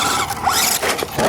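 FMS F100 RC monster truck driving, a brief close burst of high whining motor and tire squeal with quick rising pitch sweeps.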